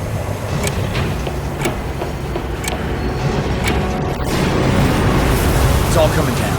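Explosion in the Captain America Super Soldier video game: a loud, sustained rumbling roar with crackling bursts that swells toward the end, with voices over it.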